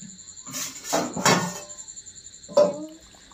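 A lid goes onto a pot of chicken curry cooked with roasted spices: a few light metallic clinks and scrapes, then a sharper clang as it settles, close and clear over a quiet background.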